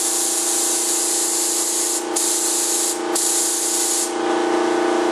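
A loud, continuous pressurized spray from an airbrush on a model aircraft kit hissing close by, broken by two brief pauses before resuming steadily.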